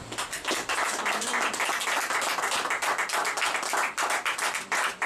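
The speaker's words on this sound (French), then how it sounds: "Acclame Dieu là où tu es." A church congregation claps in praise during a Sunday worship service, a dense, steady patter of many hands close by, filling the whole stretch without pause.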